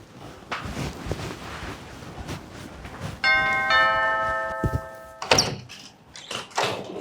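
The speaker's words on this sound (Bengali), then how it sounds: "কলিং বেল দিল কে" Doorbell in a home ringing a clear two-tone electronic chime once, close and fairly loud, followed by a door thunk and some movement noise.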